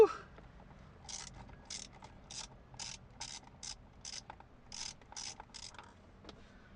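A ratchet clicks in quick bursts while loosening steering wheel bolts on an 8th generation Honda Accord, about a dozen sharp close strokes in an uneven rhythm against a quiet background.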